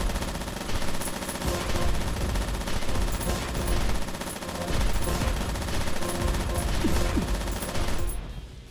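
A Gatling gun in the Metal Ascension mech video game fires in long, rapid bursts of loud continuous gunfire with brief pauses between volleys, trailing off near the end.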